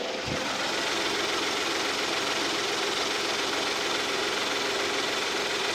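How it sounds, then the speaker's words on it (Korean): A cold Genesis BH330 V6 engine idles nearby, a smooth, even hum with a faint knocking texture, holding steady from start to finish. "엔진 소리 한번 들어볼게요"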